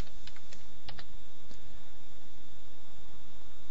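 Keys tap on a computer keyboard in a few quick bursts near the start, followed by a quiet stretch with only faint background hiss and no speech.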